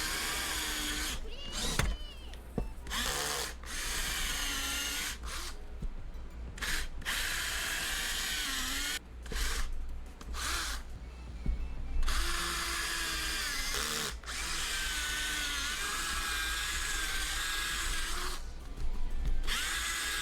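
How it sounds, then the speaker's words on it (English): A power drill bores into wood to set a bolt in a repeated series of loud, whining bursts broken by short pauses, close up, with some mechanical rattle and no talk. "The idea here is I'm gonna drill into it so I can set the bolt"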